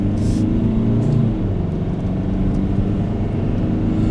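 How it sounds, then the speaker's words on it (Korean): Steady low engine drone from a car on a country road, heard from the front seat while driving, loud and constant with no speech. "앞에서는 엔진 소리가 좀 들리네요."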